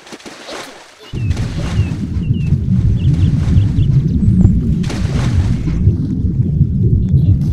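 Deep, steady thunder rumble from a Roblox video game, starting abruptly after about a second of near silence and rolling on loudly, with faint chirps above it.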